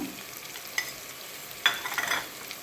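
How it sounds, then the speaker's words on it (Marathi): A spiced garlic and fenugreek dish, with turmeric, red chili and garam masala, stirred in a pan: a few quick scrapes and a brief sizzle, close and fairly quiet, no speech. "चवीनुसार मीठ आणि पुन्हा मिक्स करून घेऊया"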